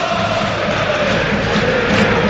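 Watford supporters in a stadium crowd cheer a consolation goal against Tottenham, a steady, broad roar of many voices sustained throughout, swelling slightly toward the end.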